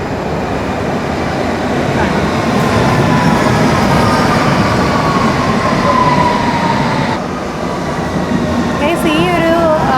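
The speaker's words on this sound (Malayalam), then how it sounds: "ഞാൻ നിങ്ങൾ ഓപ്പോസിറ്റ് സൈഡ് വരുന്നൊരു ട്രെയിൻ കാണിച്ചു തരാം." A London Underground train pulls into the opposite platform, a loud steady rumble of wheels and carriages with rising squeals and brake whines near the end, with voices in the station.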